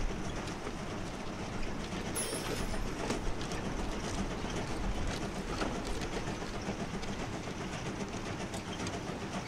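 A miniature ride-on train runs along its tracks with a steady, continuous rumble and rattle of wheels and cars, fairly loud and close throughout with no talking.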